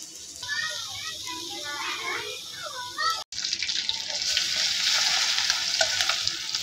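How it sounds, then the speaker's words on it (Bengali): A rohu fish roe and rice-flour fritter sizzles in hot oil, the frying hiss heard under a voice at first and then rising louder and steady after a brief cut. "তো বড়াটি লাল লাল করে ভাজে নিতেছি, আস্তে আস্তে নিবা নিবা জলে ভাজে নিতেছি"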